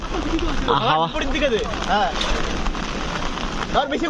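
Steady rain patters on a boat nearby while several voices talk over it.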